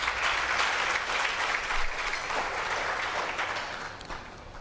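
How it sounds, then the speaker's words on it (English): Students in a university audience clap for themselves at an International Mother Language Day event, a dense, steady, fairly loud wash of applause with no talk that tapers slightly toward the end. "So please, students of this university, clap hands for yourselves."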